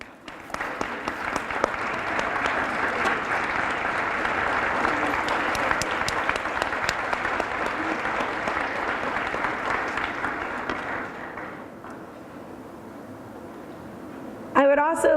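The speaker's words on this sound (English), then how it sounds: "I would particularly like the parents to take a moment and stand so that we can clap for you." Sustained applause fills a school academic recognition ceremony as the audience claps for standing parents, a dense even roar lasting around eleven seconds before fading into quieter room noise.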